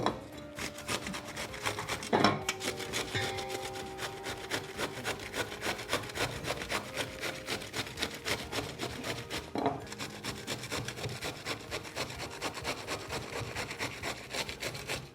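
Cabbage is grated by hand into a stainless steel pot, making steady rhythmic rasping strokes that run continuously at close range with no talking.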